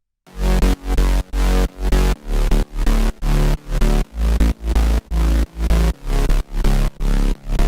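A heavy synth bass, mid bass and sub bass layered together, plays a steady chopped rhythm of repeated pulses, deep sub with a buzzy mid layer, loud and alone.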